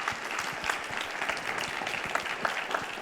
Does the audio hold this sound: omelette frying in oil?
no